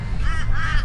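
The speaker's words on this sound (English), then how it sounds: "Now just tell the birds to stay away" Crows caw outdoors in remote country on Cape York's west coast, two drawn-out calls ringing out over steady background rumble.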